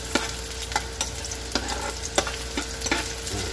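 Garlic sautéing in a pan for chicken feet adobo, with a steady background sizzle and repeated sharp scrapes and clanks of stirring spaced through the whole stretch.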